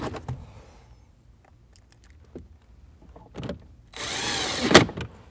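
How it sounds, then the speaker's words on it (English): A power driver whirs for under a second as screws go into the dash bezel at the top of the knee panel on a Jeep Wrangler JK, followed by a few light plastic clicks and handling noises. "Now we'll go ahead and put the two screws in the bezel that are right at the top of the knee panel."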